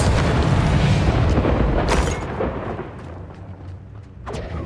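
Heavy booming impact of a Descendo spell in the video game Hogwarts Legacy, a loud rumbling slam that decays into lingering low debris and crackle, with a second smaller hit near the end.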